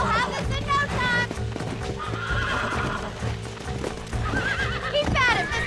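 A horse in the Red Dead Redemption game neighs and whinnies repeatedly while being broken in, with hoof clip-clops and stamping throughout and a voice talking over it.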